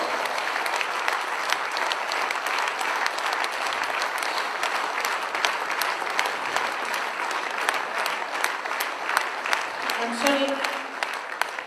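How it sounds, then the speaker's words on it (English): A standing audience applauds at a speech event, dense sustained clapping filling the whole stretch at an even level, with a voice briefly audible near the end. "I think though Dr. Lim Seo Jin requires a standing applause."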